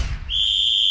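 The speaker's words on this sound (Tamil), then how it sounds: "இன்று பறக்கும் நமது விசில் சத்தம் நாளை ஒலிக்கும் நல்லாட்சிக்கான கொண்டாட்டமாக மாறும்." A sharp, shrill whistle is blown once and held steady, rising out of a low rumbling background and sustaining loudly to the end.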